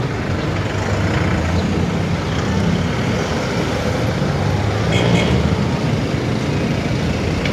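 Busy street traffic in the town of Novaliches on a holiday morning, a continuous roar of cars, trucks and buses passing nearby, with a slight swell in engine noise midway and muffled voices underneath.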